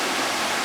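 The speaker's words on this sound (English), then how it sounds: "This is the spring where all the water comes out from underground." Spring water gushes out from underground in a constant, loud rushing hiss, close by and with no other sounds in the brief moment.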